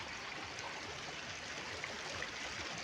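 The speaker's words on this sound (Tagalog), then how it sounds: "Nasa tabi akong ilog" River flowing beside rocks, a faint, steady broadband rush and trickle of water heard from nearby, continuous with no voices.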